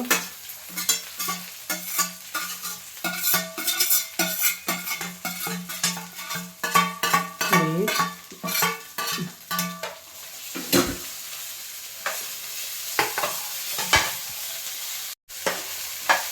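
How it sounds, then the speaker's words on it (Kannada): Onions frying on a low flame for Mangalore-style mutton sambar, with a soft sizzle, clinking and scraping utensil strokes, and intermittent musical tones throughout. "ಸಣ್ಣ ಉರಿಯಲ್ಲಿಟ್ಟು ಫ್ರೈ ಮಾಡಬೇಕು"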